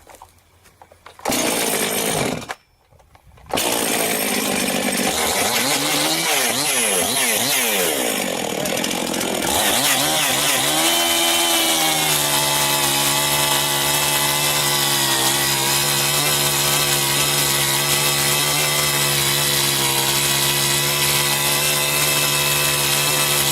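A chainsaw with a freshly tightened chain sputters through a few pulls before catching, then revs and settles into a loud, steady, buzzing roar as it works, close and continuous.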